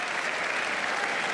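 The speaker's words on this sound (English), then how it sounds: "he leaves the ground to raucous applause" Cricket crowd at the Gabba in Brisbane, Australia v New Zealand Test, applauding a departing batsman: a dense, steady roar of clapping from a large stadium crowd, continuous and loud, with no talk over it.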